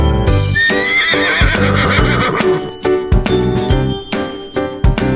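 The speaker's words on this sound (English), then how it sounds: "Hey, it's a horse." A horse gives a single high, quavering whinny near the start, loud and close, set over bouncy rhythmic children's music.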